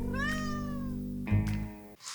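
A hungry cat meows close by, one long drawn-out call followed by a shorter second meow, with no other voices present.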